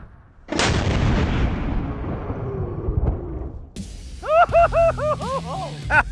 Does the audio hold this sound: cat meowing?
no